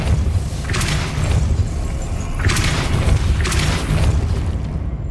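The Depulso spell is cast repeatedly in the Hogwarts Legacy video game, giving three or four thumping blasts with bright whooshing bursts, spaced about a second apart over a steady background.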